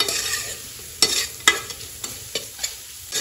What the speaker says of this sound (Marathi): आता यामध्ये जे वाटून घेतलेलं हे वाटण आहे ना हे मी ऍड करणार आहे. छान मिक्स करून घ्यायचंय.